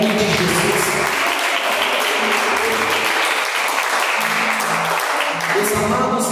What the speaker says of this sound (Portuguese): glorifique a Deus com palmas